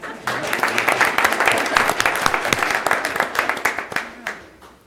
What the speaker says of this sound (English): Could we have your family stand and let us applaud them for their support?